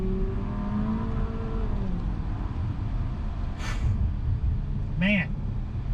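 A 2021 Porsche Macan SUV drives steadily with a constant low engine and road rumble, accelerating gently, while someone talks over it throughout.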